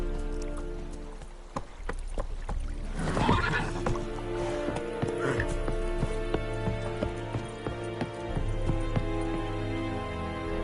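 Roach the horse in The Witcher gives a loud whinny, followed by hooves clopping and rain pattering in the background, with no voices over it.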